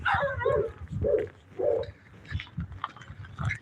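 A puppy barks and whimpers in short yelping bursts, several high-pitched yips and whines close by with brief pauses between them.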